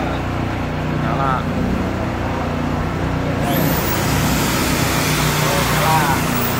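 A ProQuip QRV4000 silent inverter generator running under test, a steady low hum that holds constant and close throughout, with a slight shift in tone partway through.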